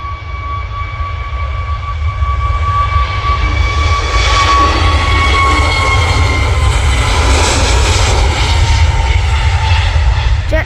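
Jet2 airliner jet engines passing at Manchester Airport, a loud, steady roar that builds and swells with a whining tone over about ten seconds, with no talk over it.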